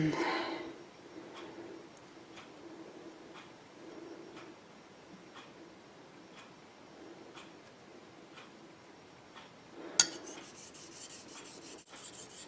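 Mora 612 knife being sharpened on a lightly wetted whetstone, heard as faint, regular rasping strokes repeating about every second, with a sharper scrape near the end.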